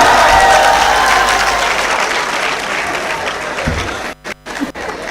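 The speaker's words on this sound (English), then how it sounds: "I think that deserves another round of applause, please." Graduation ceremony crowd at a College of Health Sciences congregation applauds heartily, loud sustained clapping that fades and breaks off abruptly near the end.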